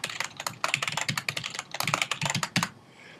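A password is typed on a computer keyboard in quick bursts of close, crisp key clicks with brief pauses, ending in a short quiet stretch.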